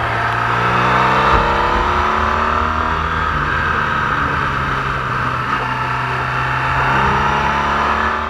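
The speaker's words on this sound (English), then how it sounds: "There's a car coming." A car passes on a steep mountain road with hairpin bends on the Transalpina, its engine droning steadily throughout, heard from a touring motorcycle over constant wind and engine rumble.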